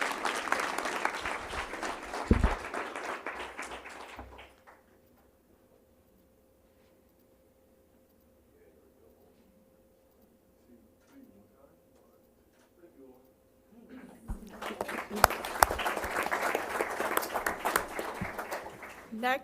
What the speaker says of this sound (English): Give a round of applause to Owen Nelms.